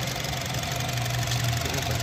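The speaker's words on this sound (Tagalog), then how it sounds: "Yung makina niya." A 2020 Honda City car engine idles with a quiet, steady hum and a soft, even low rumble throughout, with no talk.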